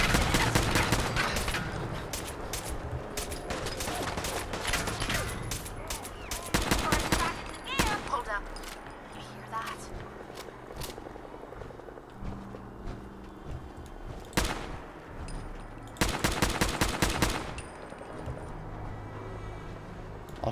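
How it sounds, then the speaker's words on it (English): Gatling laser firing in a video game, rapid bursts of shots in several clusters with quieter stretches between them. "I'll show off the Gatling laser here"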